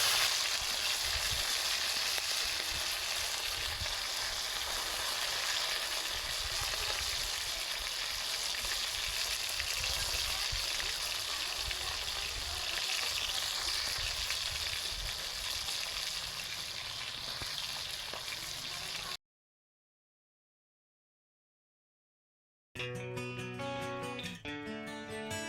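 Fish fries village style in a pan with a steady, loud sizzle and crackle lasting about nineteen seconds, then it cuts to brief silence before music comes in.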